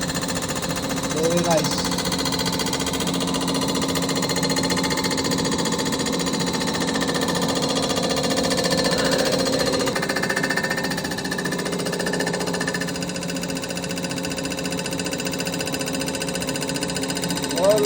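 Line boring machine taking a final 0.11 mm skim cut through the main bearing housings of a Nissan GT-R R35 engine block, a steady grinding, rattling machining drone throughout with a short spoken comment near the end.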